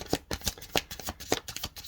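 A deck of tarot cards being shuffled by hand in a reading setup, giving a close, steady run of soft papery riffles and flicks in a repeating rhythm with no voices.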